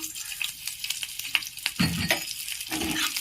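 Slit green chillies sizzle in hot oil in a pan for Bengali-style chicken do pyaza, with a spatula stirring and scraping in bursts. The frying is close and steady, and there is no talk.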